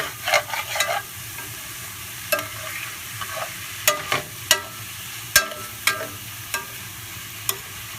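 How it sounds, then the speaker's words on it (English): Ground beef frying in a pan on medium-high heat for a Filipino-style dish, with a steady low sizzle and a few sharp spatula scrapes against the pan, closely spaced near the start and then scattered through the rest. "if any of the meat gets stuck, just kind of scrape it off like this."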